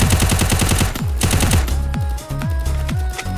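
Rapid bursts of automatic gunfire from an esports shooter video game match, loud and close, with rhythmic volleys repeating throughout and no talk over them.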